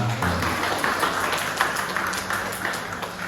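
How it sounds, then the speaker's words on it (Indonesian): A church congregation in a chapel gives the choir a round of applause after Mass, the clapping steady but fairly faint and soft across the whole moment. "Kita beri tepuk tangan yang meriah untuk kur kita."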